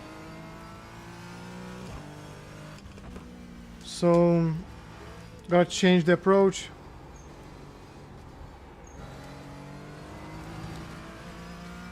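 Porsche 718 GT4 engine in iRacing drones steadily at moderate level through the clip, with harmonic engine tones, while someone speaks briefly over it.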